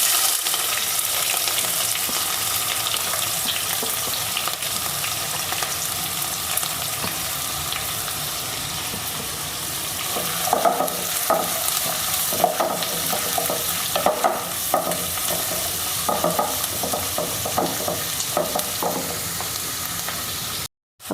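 Sliced onions sizzle steadily in a hot pan while being stirred with a spoon for a chicken stew, a continuous close frying hiss with scraping stir strokes growing busier in the second half.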